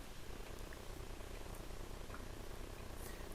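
A cat purring close by in a kitchen, a faint, steady, rhythmic low rumble continuing evenly throughout with no voices.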